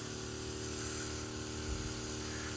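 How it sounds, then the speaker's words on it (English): An airbrush or spray gun gives a test spray of paint for Warhammer miniatures, a steady close hiss lasting a couple of seconds with no talk over it. "We'll do a test spray just to be safe."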